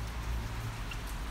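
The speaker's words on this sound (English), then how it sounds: "It's raining, cars going by." Steady outdoor rain hiss with traffic noise from passing cars, a continuous broadband wash with low rumble, no voices.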